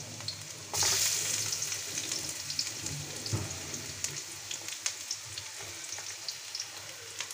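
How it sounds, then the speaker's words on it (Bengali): Onion and ginger frying in a pan, a steady loud sizzle that flares as the ingredients hit the oil, with scattered crackles and stirring scrapes throughout. "পেঁয়াজগুলো গোল্ডেন ব্রাউন করে ভেজে নিব।"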